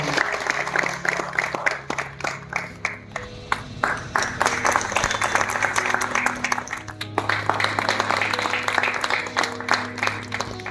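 A crowd at a retirement day ceremony claps loudly and continuously for about ten seconds, with sustained tones and faint voices running underneath.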